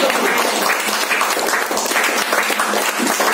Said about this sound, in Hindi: खड़े होकर तालियां बजाइए